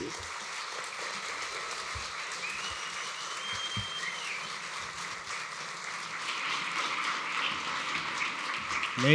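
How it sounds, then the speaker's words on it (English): Applause from an audience at a conference opening ceremony, a steady broad wash of clapping that carries on for several seconds and swells slightly toward the end. "Some more claps for Nehrus."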